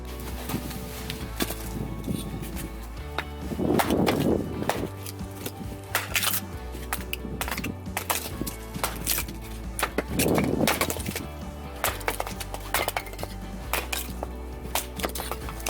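Wood fuel is prepared for a forge with a series of sharp, close knocks and chopping strikes. Heavier bursts of clattering and rustling come now and then amid scattered irregular thuds.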